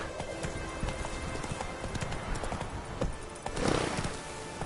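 Close, rapid hoofbeats of a galloping horse in The Witcher 3: Wild Hunt, a dense clip-clop rhythm that swells briefly near the end, with no speech.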